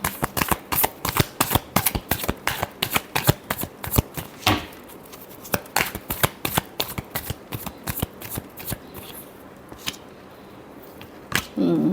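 Tarot cards are riffled and shuffled by hand in rapid, crisp bursts of flicks, close and loud, with a brief pause before a final run.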